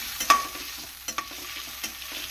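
Curry leaves sauté in a pan for a Kerala-style egg curry, a soft, close sizzle broken by a few sharp spatula clicks and scrapes against the pan, with no talking.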